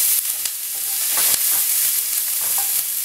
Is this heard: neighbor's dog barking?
no